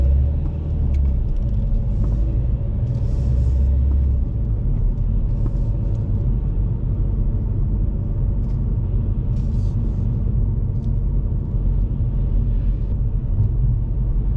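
A car drives along a UK road on a driving lesson while an oncoming bus approaches, with a steady low engine and road rumble throughout and no talk.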